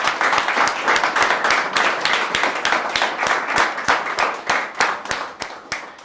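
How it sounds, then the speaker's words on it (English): Steady applause from a conference audience after an engineering discussion panel, dense overlapping claps sustained at an even level throughout, with no speech over it. "So a big applause for them all"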